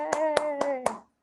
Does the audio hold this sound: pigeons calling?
no